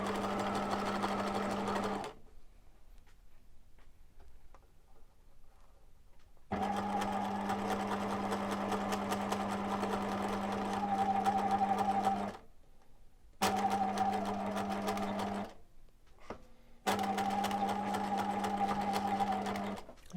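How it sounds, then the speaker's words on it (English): A domestic sewing machine stitches elastic onto a fabric face mask, running in steady, close humming bursts with brief pauses where the fabric is pivoted, then starting up again. "I'm just going to pivot and I'm going to stitch about the same distance that I stitched the other side"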